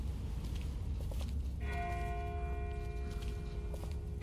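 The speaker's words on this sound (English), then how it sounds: "That's not the same bell as before. This one's further off." A distant bell rings out with sustained, ringing tones that begin partway through and hang in the air, heard faintly over a steady outdoor background rumble near a river.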